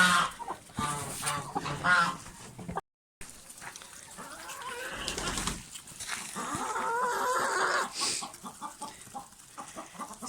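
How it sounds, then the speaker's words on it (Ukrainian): Several chickens cluck and murmur close by, with soft pecking and scratching sounds as they feed on scattered corn, some louder calls standing out. "Всі їдять кукурудзка, одна курка перелітає"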